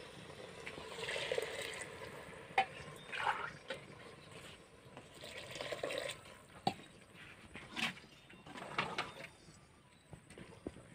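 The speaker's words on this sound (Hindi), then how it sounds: "तो अभी इसमें डाल रही हूँ पानी।" Water is poured into a cooking pot holding a browned, fried curry base, a soft continuous splashing and trickling with occasional clinks, faint and close in a home kitchen.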